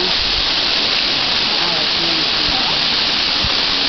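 Continuous loud rushing roar of the Kamieńczyk waterfall near Szklarska Poręba, broadband and unbroken, heard up close for a few seconds with faint incidental sounds mixed in.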